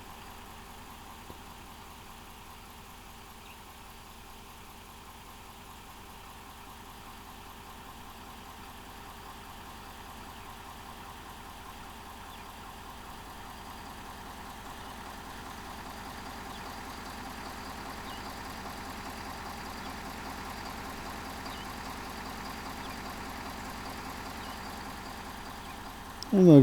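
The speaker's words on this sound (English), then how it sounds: "or you just hear the truck running." Truck engine idling outdoors near Navajo Mountain, a low steady rumble that slowly grows a little louder over nearly half a minute, fairly quiet, ending with a sudden knock.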